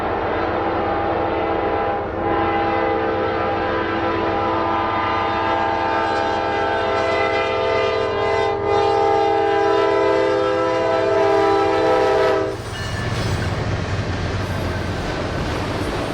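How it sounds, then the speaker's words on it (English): A loaded autorack freight train led by an ES40DC locomotive rumbles past up close, sounding a long, steady horn blast for most of the pass before the horn cuts off and the rolling clatter of the cars continues. "we saw a loaded autorack train headed for Atlanta dealerships"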